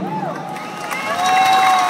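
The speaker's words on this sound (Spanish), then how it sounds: "Quisiera también robarles un aplauso para nuestros técnicos de sonido." A concert crowd at a Latin music show in Chicago applauds and cheers for the sound technicians, a loud mix of clapping and shouts rising toward the end, with a voice heard over it.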